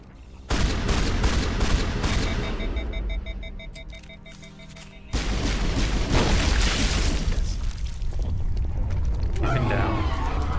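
Rapid sci-fi weapon fire in Mass Effect Legendary Edition, loud bursts of mechanical clatter with ratcheting, beeping tones and a sudden jump in intensity midway, continuing as dense combat noise, no talking.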